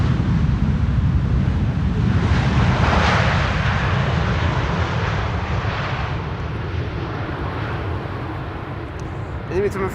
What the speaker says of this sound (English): This is KLM Flight 644 arriving from New York.